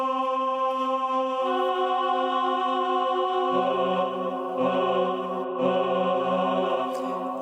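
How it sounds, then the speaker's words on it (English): A held two-note interval shifts into a harsher, clashing tritone that rings on, tense and unresolved, with no speech. "it was called Diabolus in Musica, the devil in music, the devil's tritone"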